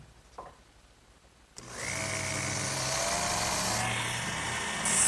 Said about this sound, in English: These marks will precisely locate where I have to drill my holes in the base.